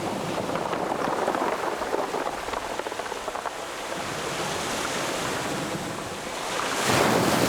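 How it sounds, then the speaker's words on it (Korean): Waves wash over a Wando pebble beach strewn with large round stones, a continuous rushing hiss of surf with a rattling undertone that swells louder toward the end. "수박만한 큰 몽돌들이 구르는 왼쪽 해변은 파도가 어루만지고 나면 끄르르"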